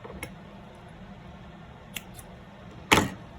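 Scissors snip through crochet yarn during an amigurumi project, giving one sharp, close cut near the end after a couple of faint small clicks, with no talking.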